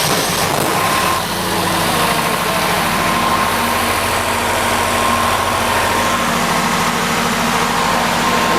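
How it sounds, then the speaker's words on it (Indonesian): A flour mill machine's engine runs loud and steady at a flour factory in Sentani, Jayapura, Papua, its dense rumble and hum starting up in the first second and then holding without a break. "Mesinnya sudah bunyi guys"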